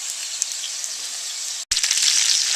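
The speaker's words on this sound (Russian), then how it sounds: "И кабачки продолжают жариться." Zucchini slices and meat cutlets fry in a pan with a steady, bright sizzle and crackle heard up close; a brief cut interrupts it before the sizzling resumes.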